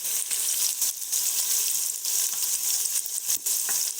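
Steady close-up sizzle of ginger-garlic paste frying in hot oil in a pan, a dense crackling hiss with small pops throughout.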